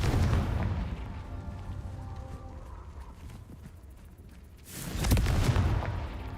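A Confringo fire spell in the Hogwarts Legacy video game bursts with a deep rumbling blast near the start and another loud boom around five seconds, separated by quieter game ambience.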